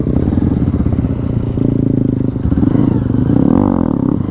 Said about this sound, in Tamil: ஒரு வீலி போட்டு பார்ப்போம்